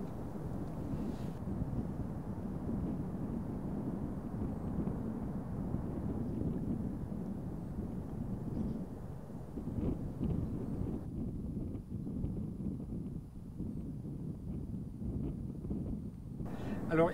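Steady buffeting wind at a scenic lookout, a low continuous rumble across the whole stretch, with voices talking over it.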